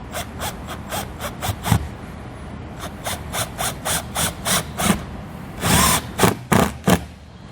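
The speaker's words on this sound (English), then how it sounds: "Now I'm going to install my screws." Screws being driven into the rail of a Solera slide-out awning on a 2019 Keystone Impact RV, a loud, close series of short rhythmic bursts with a longer whirring run near the end.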